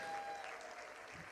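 Audience applause at a charity auction gala, a steady wash of clapping from a crowd that stays fairly even and moderately loud for its brief length, with no talking over it.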